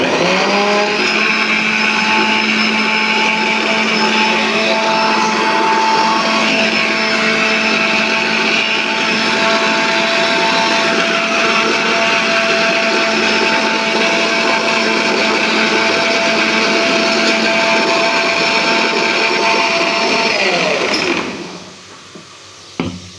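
An electric mixer grinder runs hard and loud for about twenty seconds, whirring steadily as it grinds mustard paste with a little water, then cuts out abruptly and leaves a short clatter.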